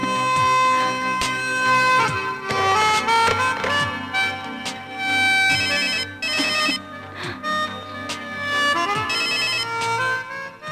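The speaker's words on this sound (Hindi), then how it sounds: "गिरीश फोन नहीं उठा रहा है।" A phone rings with a loud melodic ringtone, repeating tinkling musical phrases that play continuously with no one speaking.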